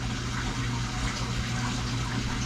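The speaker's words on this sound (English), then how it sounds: "Look at that water. It's coming from the same between slab and wall, just like down there, and up through this little crack." Water trickles and seeps through a crack between the slab and wall of a flooded basement, a steady close gushing hiss with a low rumble underneath, no speech.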